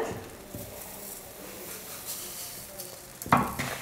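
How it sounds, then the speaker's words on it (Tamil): A spoon stirs sugar and almonds together in a pan for almond halwa, giving a soft, steady scraping hiss that ends in a louder clatter of utensil against metal. "சர்க்கரையோடு சேர்த்து பாதாமை நல்லா நம்ம கலந்து கொடுத்துக்கலாம்."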